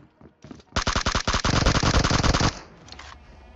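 Automatic gunfire from PUBG Mobile on the Erangel map: a few quick single shots, then a loud, rapid sustained burst lasting nearly two seconds before it cuts off to quiet.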